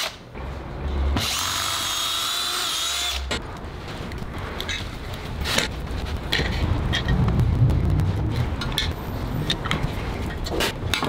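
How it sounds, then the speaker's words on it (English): A power drill drills pilot holes for a wooden rug tufting frame, whirring steadily for about two seconds, then stops, followed by clattering handling noises and faint background rustle. "I'm drilling the pilot holes."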